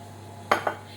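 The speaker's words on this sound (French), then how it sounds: "vous allez prendre un saladier, les verser dedans, y rajouter les 5 centilitres d'huile d'olive, donc c'est ce que je fais" Two sharp clinks from a salad bowl as chocolate and olive oil are added while making a vegan chocolate cake: a loud metallic tap and then a softer second knock, close by in an otherwise quiet kitchen.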